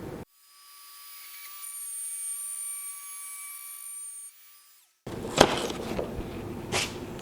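A cordless 620 router fitted with a guide bushing whines steadily as it roughs out openings in a stand enclosure, a sustained high tonal motor hum for several seconds, followed by louder clattering, broadband cutting and handling noise.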